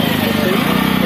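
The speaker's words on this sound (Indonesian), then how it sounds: "ada motor guys" Motorcycle engine on a busy street near a flower-selling area, a steady buzzing drone held close and loud under ongoing street noise and talk.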